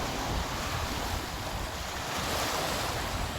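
Strong waves break steadily at Manila Bay, a continuous loud roar of surf with gusty wind buffeting the microphone and no voices.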